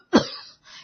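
A single sudden cough bursts out sharply and is followed by a short raspy tail and a softer breathy sound, with no talking.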